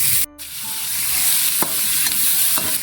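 Garlic, ginger and tomato sizzle in hot frying oil in a pan, a loud, steady crackling hiss broken by a brief stirring scrape near the start and a few soft clicks of the utensil.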